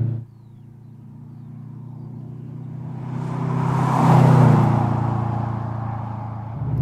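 A Subaru Impreza 22B turbocharged engine revs up and pulls strongly, a steady low rumble swelling toward a peak before easing off, close and continuous with no talk.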